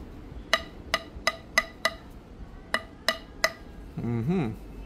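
Eight sharp, hollow, wood-like taps on an adjustable kettlebell handle ring out in an uneven rhythm, close and fairly quiet, followed by a brief low scraping rumble.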